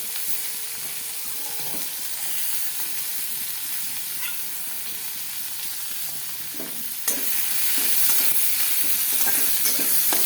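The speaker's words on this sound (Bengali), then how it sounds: "এখন সুন্দর করে ভাজা হলুদ লবণ দিয়ে ফেলছে।" Small fish fry in hot oil with turmeric and salt in a kadai, a steady crackling sizzle with occasional stirring. The sizzle grows louder and stronger partway through and stays close and constant.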